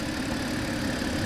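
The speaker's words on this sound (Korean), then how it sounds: "일단 엔진 소리는 괜찮고 진동 수준이나 이런 부분도 나쁘진 않습니다" A BMW F10 528i in Busan idling, a steady, dense engine hum with a low rumble holding evenly and close throughout, with no other sounds over it.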